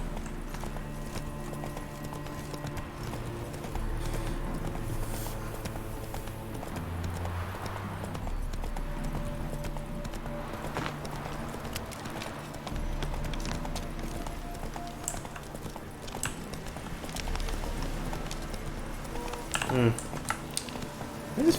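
Horse Roach's hooves clip-clop at a steady walking pace in The Witcher video game, set against a continuous bed of game music and ambience, with faint talk present.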